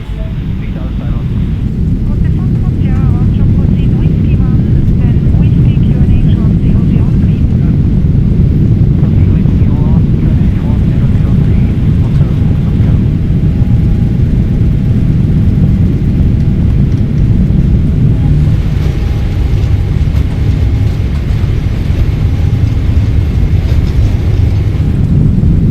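A Boeing 777-300ER jet accelerates down the runway on takeoff at Brisbane, a loud, steady roar of engines and rumble filling the cabin, swelling slightly toward the end.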